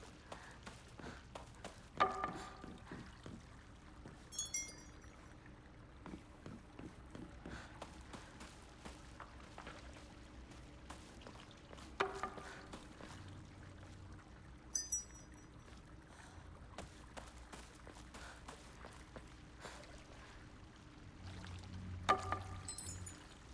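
Water in the video game Silent Hill f, a low running flow with scattered splashing, pouring bursts that rise and fade every few seconds over a quiet, dim background.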